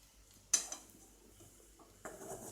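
Plantain fry, raw plantain seasoned with salt, chilli powder and turmeric, being gently stirred in a pan: a sharp utensil scrape against the pan, then soft scraping and clinking, with another scraping stir near the end.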